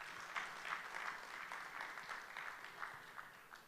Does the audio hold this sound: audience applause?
yes